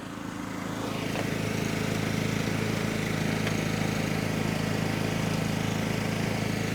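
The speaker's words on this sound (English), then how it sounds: "you can hear the generator running in the back." A generator fitted with a 20 amp outlet runs in the background, giving off a steady, unbroken engine hum that holds at an even level throughout.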